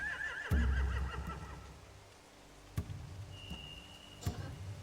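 Horses whinny in a zombie-survival video game: one loud, wavering neigh near the start with a heavy thump, then fainter snorts and scattered knocks, plus a thin sustained tone later.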